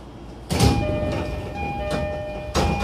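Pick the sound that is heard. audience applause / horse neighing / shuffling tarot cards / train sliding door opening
train sliding door opening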